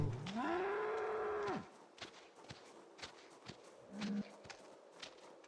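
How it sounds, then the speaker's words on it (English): Cows moo in the Project Zomboid video game: one long, loud, rising moo runs through the first second and a half, followed by soft footsteps and a shorter, fainter low call near the end. "do the cow noises attract?"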